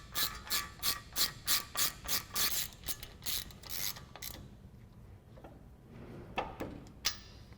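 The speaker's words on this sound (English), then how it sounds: "Reinstall our axle retaining nut and tighten it down with our 13mm socket." A hand ratchet with a 13mm socket tightening the front axle retaining nut on a 2015-2020 Ford F-150. Around a dozen evenly spaced clicks come first, then a few scattered clicks, close and quiet.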